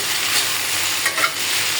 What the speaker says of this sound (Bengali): ভেন্ডি ভাজিটা হয়ে গেছে